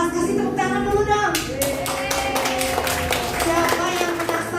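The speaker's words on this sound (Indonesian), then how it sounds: "Ada yang naik kelas, kasih tepuk tangan dulu dong." Children in a Sunday school class clapping their hands in a bright, uneven patter of claps, with tonal music and some chatter running underneath.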